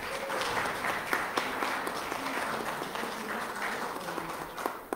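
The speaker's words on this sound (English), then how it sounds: "Let's give Cowan a round of applause." A church congregation applauds together, a steady wash of clapping from many hands that runs throughout at moderate loudness, with a few brief voices rising over it.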